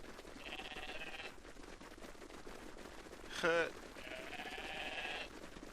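Bighorn sheep bleat in a valley, a drawn-out bleat, then a brief sharp burst, then another long bleat, all moderately close over a noisy background.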